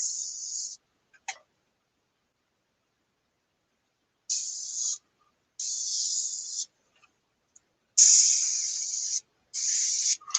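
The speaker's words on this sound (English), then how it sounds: "if you spray light over dark, you can get actually sharper edges" An airbrush sprays paint onto a scale model in several separate hissing bursts of a second or so each, with silent gaps and a few faint ticks between them.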